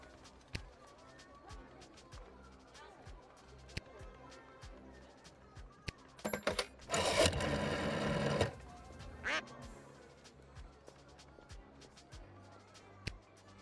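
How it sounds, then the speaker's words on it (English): A cartoonish duck quacks in the Lil' Guardsman video game amid clicking interface sounds, a brief burst of loud noisy quacking in the middle of an otherwise quiet stretch. "Oh, right. You got turned into a duck."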